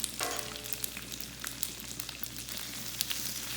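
Bacon warms on a flat top griddle with a steady, close sizzle and crackle throughout, broken by a few sharp pops and spits of fat, with no voices.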